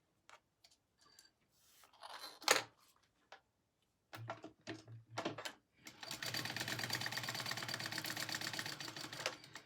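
A sewing machine stitches a handmade wallet. A few scattered clicks and short starts come first, then a sustained, even mechanical whir runs for several seconds, close and fairly quiet.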